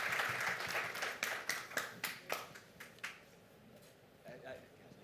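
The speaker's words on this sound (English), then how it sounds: "we should all give a round of applause to all of our panelists" Conference audience at a public health meeting claps for panelists: a short burst of scattered hand claps, loud at first, then thinning to a few isolated claps and fading into quiet.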